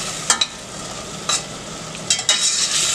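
Cleaned beef tripe, washed with lemon and vinegar, goes into a sizzling sauce for dobradinha with white beans: a steady soft sizzle broken by a few brief clattering stirs, close up and without talk.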